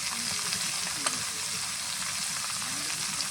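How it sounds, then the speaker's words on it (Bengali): Ash gourd, potatoes and slit green chilies frying in a pan, giving a steady close hiss with a faint stir or two and no talking. "এবার একটু নেড়ে চেড়ে এটাকে ভেজে নেব।"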